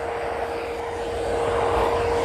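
A steady electric motor hum with a constant high-pitched buzz from an electric dog grooming clipper running close by on its lowest speed, unchanging for a couple of seconds.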